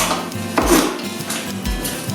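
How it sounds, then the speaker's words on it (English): A knife chopping onion on a cutting board in a home kitchen, a few distinct knocks and scraping strokes spaced out over a couple of seconds, close and clear with no talking. "So we're getting this onion all chopped up"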